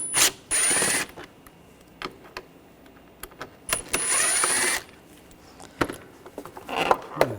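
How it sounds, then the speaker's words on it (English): A Phillips head screwdriver removes screws from a 2004-2009 Audi A4 during radiator and condenser fan work. It gives two sustained, close rasping ratchet-like bursts, with scattered light clicks and taps between them. "Remove these 2 screws. Use a Phillips head screwdriver"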